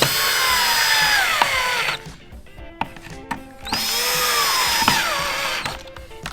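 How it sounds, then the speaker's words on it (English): A cordless screwdriver whines loudly as it drives screws into the plastic mounts of a Toyota 4Runner sequential smoked turn signal, two long revving bursts with a short clicking pause between them, alone and close. "Grab your screwdriver and just zap them in."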